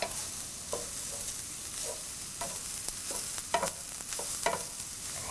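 Grated raw papaya thoran being stirred with a spoon in a hot pan, a gentle continuous sizzle broken by repeated scraping strokes, close and alone.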